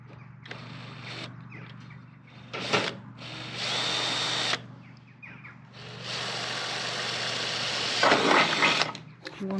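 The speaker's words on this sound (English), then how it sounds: "One bit drilled" A power drill works through a Rhino Premium greenhouse frame, whirring in long, loud runs that start and stop close by, with some brief clattering between bursts.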